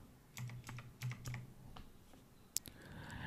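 A few quick keystrokes on a computer keyboard entering a number in a Windows 11 settings box, crisp close taps in a short run followed by a sharper final key press, no voices.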